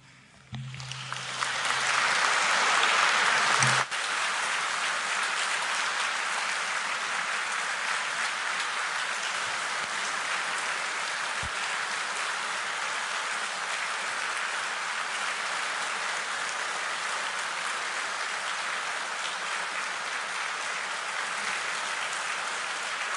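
Sustained applause from a church congregation after a thanksgiving Mass, dense and steady for over twenty seconds, with a brief strike near the start before the clapping settles into an even roar.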